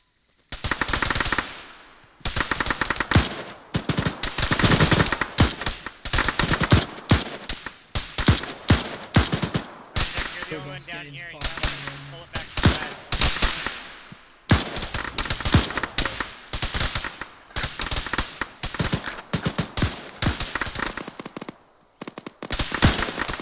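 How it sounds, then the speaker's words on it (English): Bursts of machine gun fire in a military video game, loud and close, coming in long sustained volleys with short gaps, broken once by a brief lull around the middle. "sustain your fire to the northeast"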